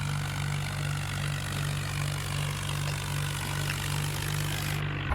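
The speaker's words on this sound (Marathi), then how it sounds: "स्पीड पकडल्यावर ट्रॅक्टर खूप पळेल" A tractor engine runs at speed with a steady, droning hum that holds level for about five seconds and then stops abruptly. No one speaks.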